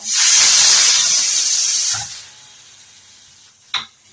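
A pressure cooker cooking chicken kosha releases a loud, close rush of hissing steam that gradually tapers off, followed a moment later by a short second puff.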